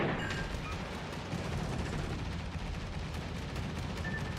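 Naval guns fire a salvo in World of Warships, heard as a continuous rumbling boom and roar of battle that stays loud and steady with no distinct gaps.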